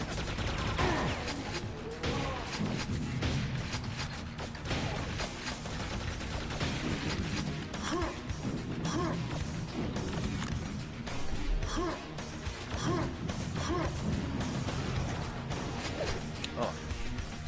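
Machine gun fire in the video game Quake 2: dense, rapid bursts of gunshots and crashing impacts, loud and continuous throughout, with a voice talking intermittently underneath.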